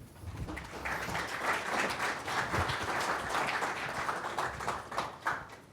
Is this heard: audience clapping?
yes